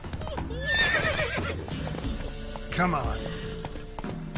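Roach, a horse in The Witcher 3, gives a ringing whinny and then a second shorter neigh over rhythmic galloping hoofbeats, while someone speaks briefly.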